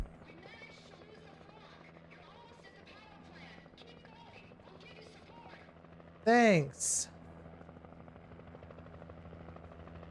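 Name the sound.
helicopter in a video game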